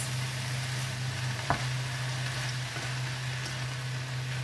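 Shredded cabbage fries in a pan with a steady, even sizzle and a constant low hum. A single utensil knock comes from the pan about a third of the way through. No one speaks.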